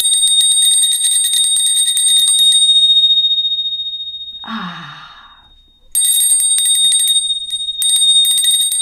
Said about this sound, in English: Just brings beauty to my ears when I hear the bell